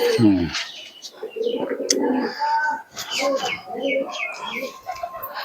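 Domestic pigeons, Giribaz and Matraj breeds kept in Krishnanagar, coo nearby in repeated soft, throaty phrases, joined by a few short chirps, with a person talking underneath.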